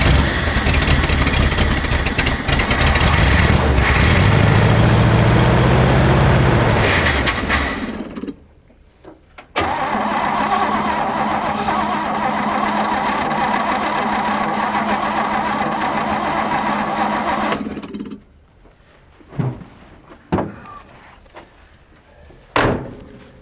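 An old GMC truck engine, abandoned for 30 years, runs rough with bad fuel in its carburetor, loud and uneven. It dies out, restarts briefly, then cuts off again, followed by a few sharp knocks.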